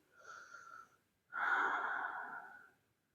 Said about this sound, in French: Donc on vient respirer profondément.